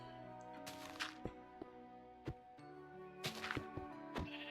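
Sheep in the Minecraft video game bleat a few times in short synthetic calls, mixed with sharp punching thwacks over a steady game music bed.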